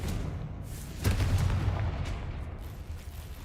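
Confringo explosion spell cast in the Hogwarts Legacy game, a single dull boom with a low rumbling tail that swells briefly and fades under a steady background wash.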